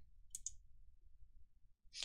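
Mouse clicks on an accept button in spreadsheet software: a pair of quick, crisp clicks near the start and another sharp click near the end, with a quiet low room hum in between.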